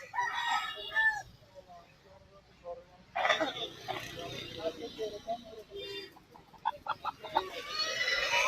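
At a busy market for hill country local roosters and hens, a rooster crows loudly nearby, with hens clucking and squawking in short bursts around it while people talk.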